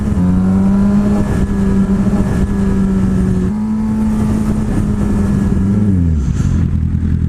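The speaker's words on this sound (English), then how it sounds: "I love that wheel spin" Steady, loud engine roar of a car in a video game during a wheel spin, with a held tone that shifts pitch midway and drops near the end, with no talking.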